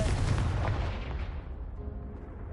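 Confringo blasting spell explodes against a pile of debris in Hogwarts Legacy, a loud deep boom with rumbling low end that rolls on and slowly fades over a couple of seconds.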